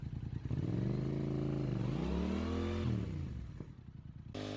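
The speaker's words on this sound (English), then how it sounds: "Let the clutch out and rev the engine up." A motorcycle engine revs hard during a burnout with the front brake held and the clutch let out in first gear, its pitch sweeping up and down over several seconds, loud and close, with no talking.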